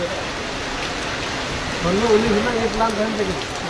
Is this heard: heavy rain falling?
yes